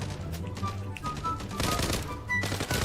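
Gunfire in the video game Zula plays as rapid automatic bursts, close and loud, with brief gaps between volleys.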